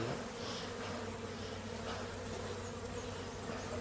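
Honey bees buzz steadily and close during an inspection of an open hive, a dense, continuous drone with no pauses and no voices.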